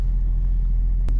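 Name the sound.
BMW 530d E39 six-cylinder diesel engine idling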